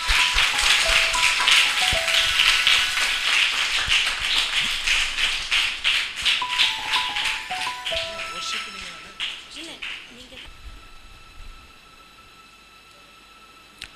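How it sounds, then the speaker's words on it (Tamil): An audience of children at a church camp claps hands in welcome, loud dense applause filling the space, then thinning into scattered claps that fade out toward the end. "நம்ம கைத்தட்டி வரவேற்கலாமா?"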